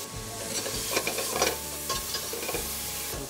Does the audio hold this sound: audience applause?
no